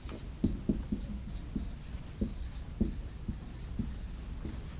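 A pen writes a font name by hand on a surface, giving a steady scratchy run of short strokes with soft taps in irregular rhythm, close and moderately quiet, with no talking.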